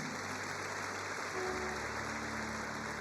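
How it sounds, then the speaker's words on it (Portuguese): A church congregation claps for Jesus during a sermon, a steady wash of applause heard faintly and evenly throughout with a low hum underneath. "Salve de palmas para Jesus."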